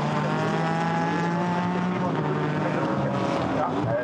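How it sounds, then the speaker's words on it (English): GT4 race cars pull into the pit lane at Zolder during a 2018 European Series race, a dense, continuous roar of several engines layered together at steady high volume. "Whole host of cars coming in now."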